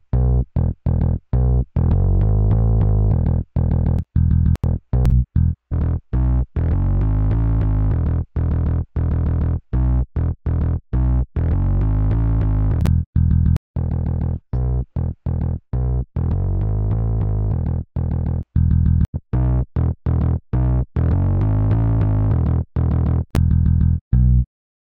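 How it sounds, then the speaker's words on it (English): Heavily distorted music runs through a lowest-quality tape machine emulation plugin from IK Multimedia inside FL Studio, loud and saturated, with a thick gritty low end and frequent sharp clicks and dropouts chopping the sustained sound throughout. "so lowest quality distortion, emulation,"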